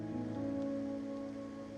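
Steady rain falls in the video game Wuthering Waves, a soft pattering wash beneath a sustained musical drone, with no voices.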